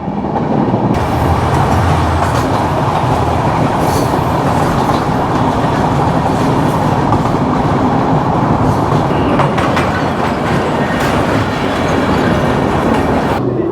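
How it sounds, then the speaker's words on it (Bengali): The Drutojan Express rolls into Kamalapur railway station in Bangladesh, a loud continuous rumble with rhythmic clickety-clack of the wheels and faint squeals, heard close from on board. "আমাদের train Drutojan express Kamalapur railway স্টেশনে ঢুকতেছে"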